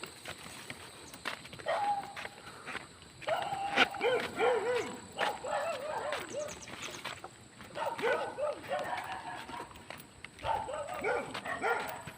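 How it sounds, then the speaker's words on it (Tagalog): Several neighbourhood dogs bark in the distance around a quiet, sparsely housed rural spot in Antipolo, scattered bursts spread across the stretch, with quiet outdoor ambience between them. "Mga aso lang maririnig eh. Mga aso ng kapitbahay kapitbahayan."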